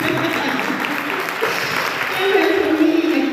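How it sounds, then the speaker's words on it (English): High school students clapping hands at a matric dance, a rough crowd patter with voices and cheering mixed in, rising a little louder toward the end. "Yes, clap hands for me."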